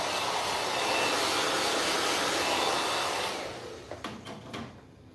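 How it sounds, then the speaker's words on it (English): A blow dryer blasts hair clippings off after a trim, a loud steady rushing roar that cuts off near the end, leaving a few faint clicks and handling sounds. "Let's blow some of these"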